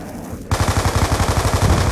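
Rapid automatic gunfire in a video game starts abruptly after a brief quiet moment, then continues as a loud, steady string of closely spaced shots.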